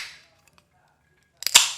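A can of zero-sugar tonic water cracks open with a sharp snap and a short fizzing hiss, heard close up after a brief quiet pause.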